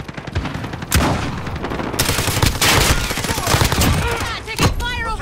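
Dense Call of Duty: Modern Warfare gunfire, rapid automatic bursts and sharp shots stacking into a near-constant fusillade over about five seconds, with radio-style voices and battlefield chatter mixed underneath.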